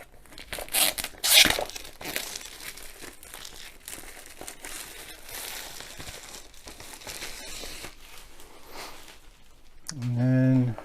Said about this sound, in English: And peel the cellophane off.